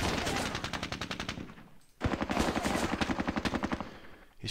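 Rifle and light machine gun fire in the Squad Battles video game: two long, rapid automatic bursts separated by a brief pause, loud and dense, with no voices.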